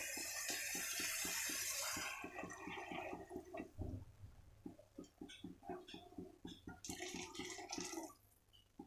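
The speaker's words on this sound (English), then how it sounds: "We'll add this water now." Water poured into a cooking pan for semiya upma, a loud rushing splash at first that settles into bubbling, sputtering and dripping sounds, close by with no talk.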